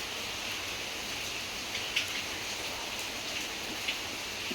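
Rain falls steadily outside a home during a wet morning, a constant soft hiss with a few sharper drop splashes, fairly faint and with no voices.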